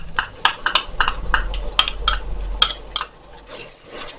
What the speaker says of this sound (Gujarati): આદુ લસણની પેસ્ટને 2 મિનિટ સુધી ઓનિયન સાથે સાંતળી લઈએ